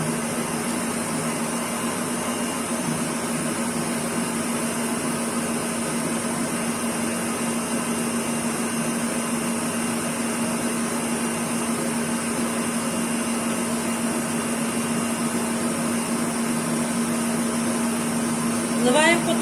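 A mixer whipping butter runs steadily and loudly throughout with a constant motor drone and churning, no pauses.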